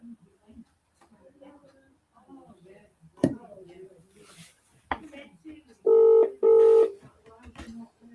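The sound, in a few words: telephone dialing tones, calling his dad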